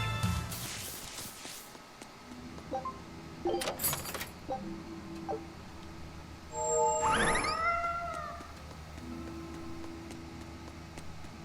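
A cat in the video game Tales of Berseria gives a single clear meow, rising and falling, over a steady background hum with a few faint chimes and clicks before it.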